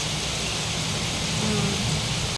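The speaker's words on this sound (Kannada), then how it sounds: "ಈ ವರ್ಷದ ಮಳೆಯಲ್ಲಿ ಇದೇ ಫಸ್ಟ್ ಟೈಮ್ ಗೈಸ್ ಇಷ್ಟು ಜೋರಾಗಿ ಮಳೆ ಬಂದಿದ್ದು" Heavy rain in Bangalore pours down as a dense, even roar of broadband hiss that stays constant for the whole stretch and cuts off abruptly at the end.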